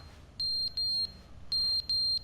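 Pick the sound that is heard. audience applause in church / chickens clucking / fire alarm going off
fire alarm going off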